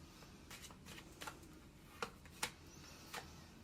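Tarot cards being shuffled and drawn by hand, giving soft papery riffles and several brief sharp snaps at close range against a faint, quiet room background.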